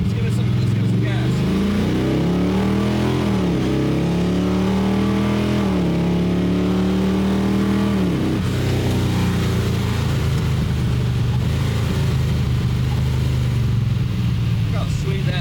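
A Small Block Chevy drag car engine idles, then revs up under throttle in rising and falling surges before settling back to a loud, steady rumble close to the microphone.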